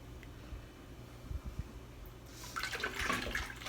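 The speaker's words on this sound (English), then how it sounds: "I'm going to pour, I'm going to stir this up just to make sure it's," Homemade wine being poured and stirred, a soft liquid pour swelling in the second half over low handling bumps, close and fairly quiet.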